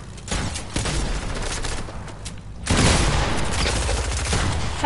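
Bursts of SMG fire in a multiplayer shooter, sustained rapid rattling that steps up louder midway and keeps going without talk.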